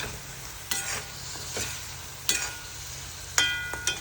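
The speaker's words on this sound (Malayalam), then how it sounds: "ഇവിടെ നമുക്ക് ചെമ്മീനൊന്ന് ഇളക്കണം കേട്ടോ" Prawns are stirred in hot oil in a cooker while biryani is made. A steady sizzle runs throughout, broken by several clinks and scrapes of a utensil against the pot.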